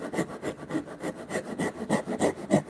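Hand saw cutting through a timber workpiece during bunk bed timber frame joinery, with quick, even back-and-forth rasping strokes close by and no talk.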